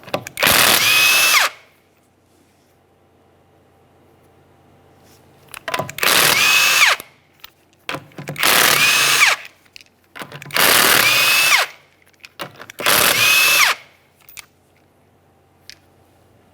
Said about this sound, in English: we're going to remove the wheel by removing all 5 of our 19mm lug nuts